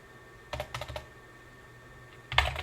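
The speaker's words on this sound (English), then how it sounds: "so I'm going to type in hostname 2511." Keystrokes on a computer keyboard as a hostname command is typed into a Cisco 2511 router's configuration mode: a quick burst of clicks, a pause, then another short flurry, close and fairly quiet.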